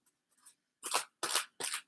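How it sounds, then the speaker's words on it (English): A deck of tarot cards is shuffled up close: one soft riffle, then three quick, crisp bursts of card flutter in a quiet room. "Let me shuffle again."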